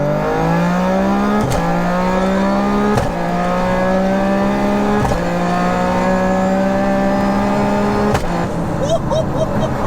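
A 3-cylinder GR Yaris with a sequential gearbox, running on nitrous in second gear, accelerates hard. The engine note climbs loudly and continuously, broken by several sharp shift cracks, and people speak over it.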